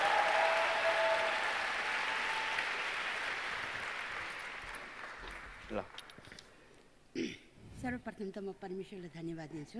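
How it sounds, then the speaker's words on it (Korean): A congregation at a Korean prayer meeting applauds to welcome a visiting missionary, a broad, loud burst of clapping that fades over several seconds before a voice begins speaking. "우리 박수로 한번 환영해 주시기 바랍니다."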